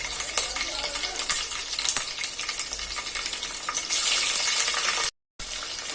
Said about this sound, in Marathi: आता यामध्ये फोडणीला मिरच्याचे तुकडे घालत आहे